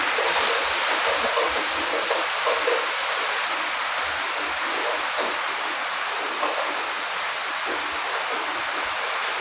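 Rainwater after a heavy downpour rushes in a constant broadband roar past a house front in Nagarabhavi, Bengaluru, steady and fairly close, like runoff pouring through a street channel, with no voices.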